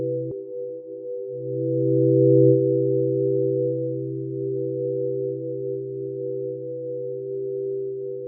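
Ambient melodic synth drone through a reverb preset: a few steady sustained pure tones layered in a calm chord, swelling gently and holding, alone without talk.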